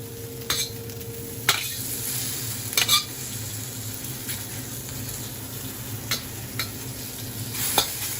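Food fries in a pan after being flipped, a constant soft sizzle with a low hum beneath and several sharp scraping and clattering spikes from stirring scattered through it.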